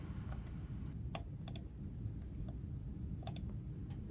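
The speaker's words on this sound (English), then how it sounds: "She does this by going to her email search engine and typing in" Fingers typing an email search on a computer keyboard, producing scattered, light key clicks at an uneven pace over a steady low background hum.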